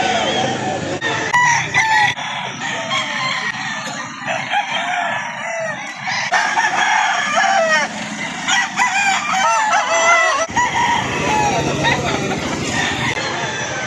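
Chickens and roosters at a poultry market in Lipa City, Batangas, with repeated crowing and clucking from many birds over a busy background as people talk nearby.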